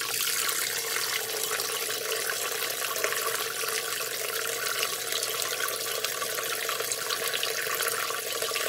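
Liquid drains steadily through a Spike false bottom in a brewing vessel, a continuous close, even rush of running water with no pauses and no voices.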